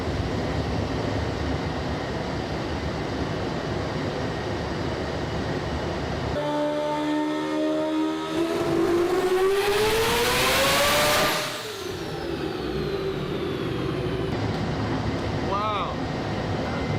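A Mazda RX-7 doing burnouts on a dyno: a loud, continuous engine roar that climbs steeply in pitch to a howling peak, then drops off, with voices briefly audible over the noise.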